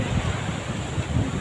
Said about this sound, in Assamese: সাগৰৰ ঢৌ আহিছে শুনি চকুৰে দেখিছোঁ